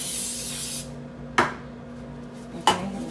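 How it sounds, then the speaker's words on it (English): Cooking spray hisses onto an air fryer pan for just under a second before salmon is cooked. Two sharp clinks of the can or pan follow against a faint background hum. "I'm gonna go ahead and spray our pan just to make sure it doesn't stick"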